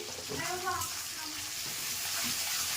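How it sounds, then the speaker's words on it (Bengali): Onions frying in hot oil give a steady, close hiss, with a few brief voice-like murmurs near the start. "এটাও ভালো করে ভেজে নেবো আমি, একদম কষে যাবে পেঁয়াজের সাথে তেলের সাথে।"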